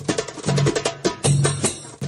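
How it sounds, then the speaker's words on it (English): A darbuka, the cup-shaped hand drum, plays a short rhythmic pattern of deep resonant strokes mixed with sharp slaps, close and loud, repeating over about two seconds with no talking. "It's a cup-shaped drum that sounds like this."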